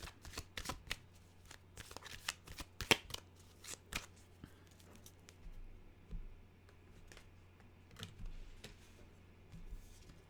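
A deck of oracle-style animal cards is shuffled close up in a quiet room. The card slaps and riffles come in quick irregular bursts, then thin out into a few softer shuffles.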